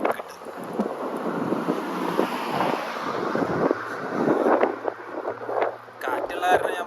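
Gusty outdoor wind buffets the microphone with a steady rough rumble that lasts throughout, and a voice is partly buried underneath it.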